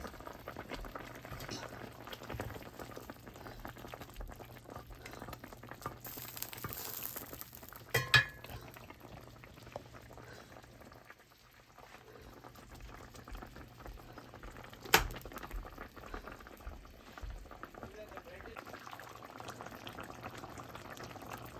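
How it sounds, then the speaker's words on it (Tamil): Egg vada curry simmers in a pot in a home kitchen, a quiet steady bubbling with a couple of sharp utensil clinks against the pot, close by and faint overall. "இப்போ முட்டை வடைக்கறி கொதித்து கொண்டிருக்கு"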